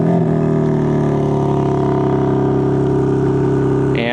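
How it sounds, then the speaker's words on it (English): A car with a quad-tip dual exhaust, started by the key fob's remote start, idles with a loud, steady engine hum that runs without a break. "this does have remote start, so you can just triple tap on the lock button."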